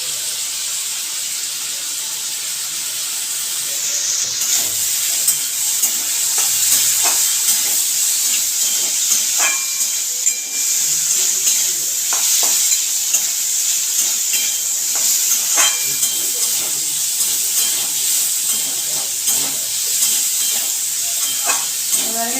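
Potatoes fry in a pan with turmeric and salt, a continuous close sizzle and hiss running the whole time. Scattered clicks and scrapes of stirring cut through it.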